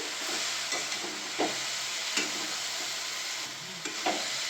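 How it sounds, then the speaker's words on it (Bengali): Spice powder is stirred into a sizzling banana flower dish in a pan, a steady close frying hiss broken by a few soft spatula scrapes roughly every second, no talking. "গুঁড়োটা দিয়ে দিচ্ছি, একটু নেড়ে দিচ্ছি"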